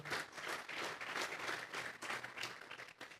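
A church congregation bursts into sustained applause during a worship service, dense hand clapping with rhythmic surges, fairly faint and heard alone.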